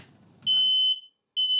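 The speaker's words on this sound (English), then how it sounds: "you don't want it beeping and annoying you when it's at the end of the life" An RV smoke alarm sounds a shrill, piercing electronic beep that holds for about half a second, pauses, then starts again, after a brief muffled rustle.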